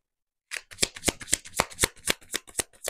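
Tarot cards are shuffled in quick, crisp riffling bursts, about a dozen close rhythmic flutters that begin after a short silence and carry on to the end.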